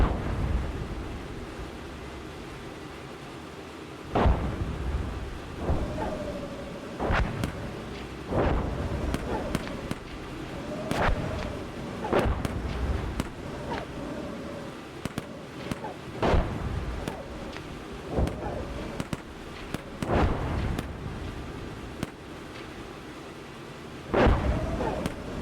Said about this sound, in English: Riflemen are firing a little.